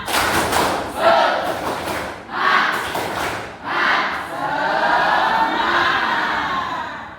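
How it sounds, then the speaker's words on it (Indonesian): Classroom students perform a rhythmic spirit clap led by their teacher, loud bursts of group clapping in a few clustered phrases, then a sustained crowd shout at the end. "Ibu pengen kalian tepuk semangat"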